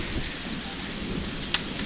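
Heavy rain pours steadily during a thunderstorm at Kaneri Math near Kolhapur, a dense wash of falling water with a low rumble of thunder beneath it and one sharp crack near the end.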